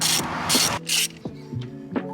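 A ratchet clicks in short bursts as a spark plug socket threads the plugs into a Vauxhall Corsa C engine, the clicks crisp and close and separated by brief pauses.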